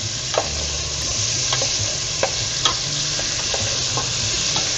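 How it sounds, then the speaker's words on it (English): Onion sautéing in a soup pot for caldo verde, a loud continuous sizzle with several sharp scraping stirs of a utensil spread across the clip, no voices. "we're gonna saute it for about 2 to 3 minutes until it's nice and soft"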